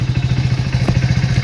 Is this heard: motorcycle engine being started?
yes